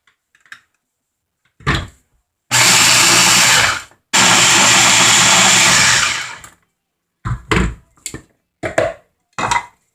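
Ninja food processor grinding oats into flour, two loud sustained whirring runs of a few seconds each, flanked by short bursts of pulsing and clunks of the machine being handled.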